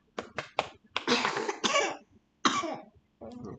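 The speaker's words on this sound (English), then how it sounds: "The cough is ugly," Several sharp coughs in quick succession, then a longer harsh coughing fit and a couple more coughs, close and fairly loud in a quiet room.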